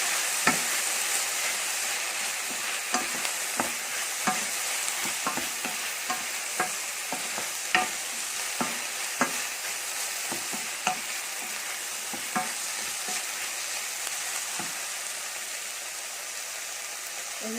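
Mushrooms sizzle and fry in a pan with a steady hiss while a utensil stirs them, giving sharp scraping knocks about once a second, close and clear, with no talk.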